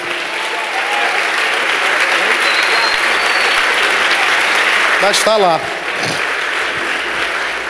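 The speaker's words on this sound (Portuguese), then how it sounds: "Dá uma forte salva de palmas para Jesus" A church congregation gives a strong round of applause for Jesus, loud steady clapping that fills the whole stretch, with a brief spoken voice rising above it near the end.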